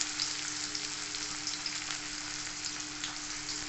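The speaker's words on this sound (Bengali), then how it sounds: "জিরে ভালো করে ফুটে গেলে এতে আমি দিয়ে দেবো মিহি করে কুচি রাখা পেঁয়াজ।" Finely chopped onion frying in oil with cumin for paneer bhurji, a steady, dense sizzle close up that holds evenly throughout with no voices.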